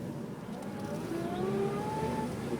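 A car drives a coast road between Carrillo and Samara in Costa Rica, its steady engine drone and road rumble continuous and close, with a faint rising whine running through the middle.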